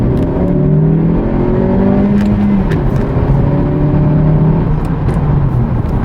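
A car pulling hard in second gear, engine note rising steadily in pitch as it accelerates, loud and close from inside the cabin, with no talking.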